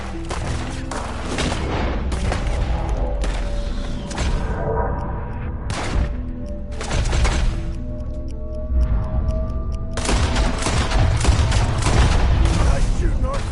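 Gunfire rings out in a shootout in the video game Red Dead Redemption 2, loud cracking shots and booms in irregular bursts with ringing tails between them, with voices at times.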